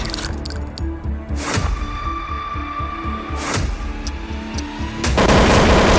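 Gunfire from the FPS video game Counter Combat Online, loud bursts and sharp shots over a game soundtrack with metallic clinks, ending in a sustained heavy burst of noise.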